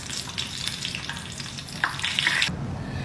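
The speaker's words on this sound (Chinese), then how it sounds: "现场炸一个大豆虫，今天咱们专门从菜园子里边捉的大豆虫炸一个" Soybean caterpillars caught from a vegetable garden bubble and sizzle in hot oil, a close, continuous crackling fry that swells slightly toward the end, with no talking.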